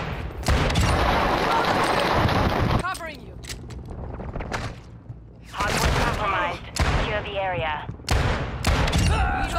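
Rapid gunfire in Call of Duty Modern Warfare 2, a shotgun-style weapon firing in loud bursts of overlapping shots with pauses between volleys, close and punchy, with a voice talking underneath.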